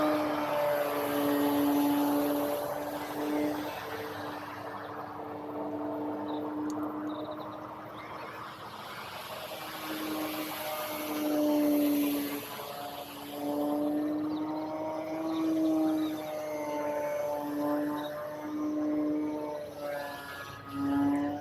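An E-Flite Timber X RC airplane on a 4S battery flies through a morning flight, its electric motor whining steadily with pitch rising and falling as it passes, sustained and moderately loud throughout with no talking.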